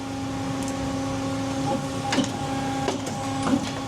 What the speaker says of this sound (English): What is that machine? Putting an O-ring land on it, basically.